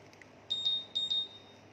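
A Honda Vision K44 scooter's key immobilizer gives two quick pairs of high electronic beeps, moderately loud against a quiet background with no voices.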